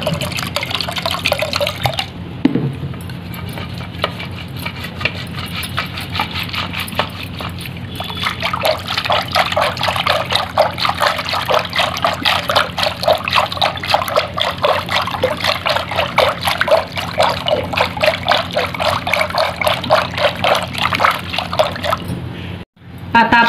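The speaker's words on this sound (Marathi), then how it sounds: "आता थंडगार आपल्याला इथे पाणी घ्यायचं आहे।" Cold water is poured into yogurt to make buttermilk. A brief splash comes first, then a steady, close trickling pour runs for around fifteen seconds before stopping abruptly.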